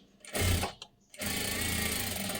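A sewing machine stitching a blouse, running in two bursts: a short whirring run, a brief pause, then a longer steady mechanical hum close by.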